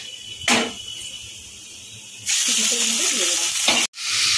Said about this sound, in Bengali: রসুনটা একটু হালকা করে ভেজে নেওয়া হয়ে গেছে।